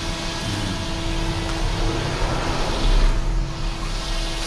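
A gardener works outdoors with a brush cutter (grass trimmer) on a sunny day, its steady motor drone continuous and fairly loud throughout with a slight surge near the end.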